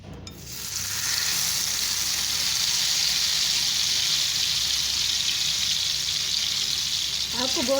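Ghee sizzles and fries hard in a pan, a loud, even hiss that swells within the first second and holds steady, ending with a faint clatter.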